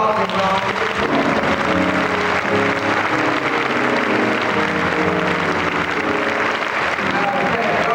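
Sustained, loud applause fills a 1992 MLK convocation at Augsburg as a congregation claps for the Lord, a steady dense roar of hands with murmuring voices mixed in throughout.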